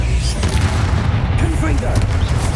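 Bombarda explosion spells in the action game Hogwarts Legacy, loud booming blasts amid dense combat noise, with voices in the mix.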